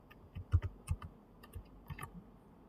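Python code being typed on a computer keyboard, a short burst of close, uneven key clicks and taps with small pauses between strokes.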